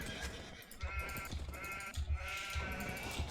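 Sheep bleat repeatedly in the Age of Empires II video game, several short in-game bleats recurring over a steady background of game ambience and sound effects.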